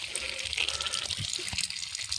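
Water runs from a tap in a steady, fairly close gushing stream, with splashing and bubbling that continue throughout without pause or talk.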